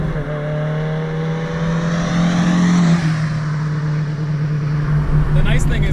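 A modified Datsun 510 wagon's engine drones from inside the car, rising steadily in pitch under acceleration, then dropping at a gear change before pulling strongly again.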